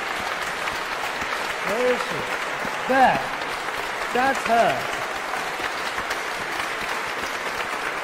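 Sustained audience applause at a live benefit concert for Afghanistan, a steady wash of clapping filling the whole stretch while someone speaks briefly over it.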